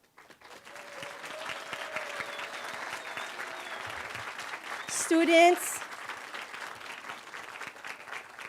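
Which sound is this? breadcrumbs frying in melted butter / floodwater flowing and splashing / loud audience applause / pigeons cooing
loud audience applause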